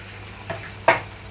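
Ivy gourd pieces fry in a pan as tomato is added, giving a low sizzle broken by two brief stirring scrapes, the second louder.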